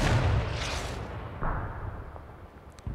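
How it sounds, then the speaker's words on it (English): Artillery in the video game Total Tank General fires with a loud opening boom, then a softer distant thud and a final short burst, each blast fading quickly. "I'm actually going to fire on this."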